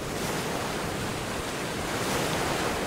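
Ocean surf rolls steadily against the Vietnamese coast, a loud, continuous wash of breaking waves with a wind-like roar and no pauses.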